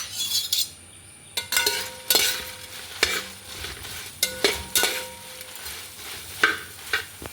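Cloves being dry roasted in a pan for bisibele bath powder, with intermittent scraping and clinking of a spoon stirring against the metal over a soft background, no talk.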